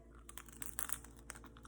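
Faint crisp crunching of bites into an air-fried wonton pepperoni pizza pocket, a quick cluster of crackly snaps close to the microphone.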